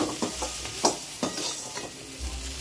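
Okra fries and is stirred in a pan for a South Indian buttermilk curry, mor kuzhambu, with a steady sizzle broken by several sharp scraping stirs close by, and no talk.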